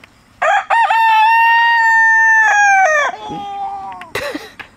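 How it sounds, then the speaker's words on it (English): A rooster crows loudly and close by, one long drawn-out call that trails off, followed by a short squawk. "That's the mean rooster."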